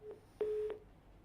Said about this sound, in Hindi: लगता है फोन डिस्कनेक्ट हो गया है